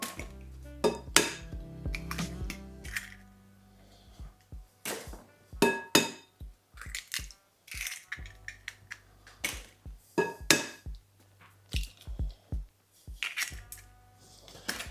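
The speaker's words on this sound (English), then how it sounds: "I'm going to crack in 4 eggs." Four eggs cracked into plain flour in a bowl for Yorkshire pudding batter: a string of sharp taps and clinks against the bowl rim, close and crisp, scattered in irregular bursts with quiet gaps between.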